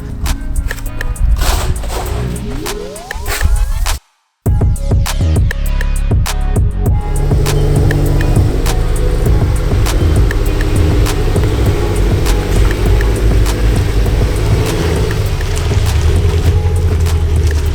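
A car fitted with a loud GReddy EVOlution GT aftermarket exhaust drives past and away, engine note rising and falling with a brief dropout early on, then a continuous heavy rumbling drone with wind and road noise.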